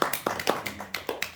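A church congregation claps in a steady rhythm, about eight to ten crisp, evenly spaced claps close by in a reverberant room.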